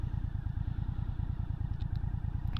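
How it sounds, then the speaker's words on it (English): An MBP C1002V motorcycle engine idles at about 1100 rpm, a close, even, rhythmic thumping with a few light ticks near the end. "Ticks over quite nicely here at sort of 1100 revs."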